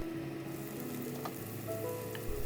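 Diced meat frying in oil in a covered pan, with a steady low sizzle and crackle that rise slightly toward the end.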